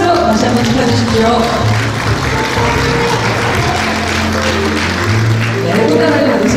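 Applause fills a Korean church award ceremony hall, steady and dense throughout, with a crowd murmuring beneath it.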